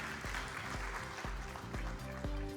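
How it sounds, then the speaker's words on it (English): Applause from a summit audience at an AI startup pitch battle in Malta, steady and moderately loud across the short stretch with a low rhythmic hum beneath it. "Round of applause to Valid Network"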